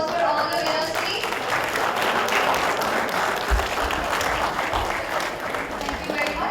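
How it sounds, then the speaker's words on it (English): An auditorium audience at a university Foundation Day ceremony gives sustained applause for award winners, with dense clapping filling the room while a voice speaks over it. "May we have a huge round of applause for all the winners, please?"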